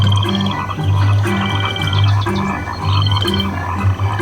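Frogs croak in an attraction setting, a repeating low chorus of throaty pulses with a higher rhythmic chirp above, steady and close, with no voices.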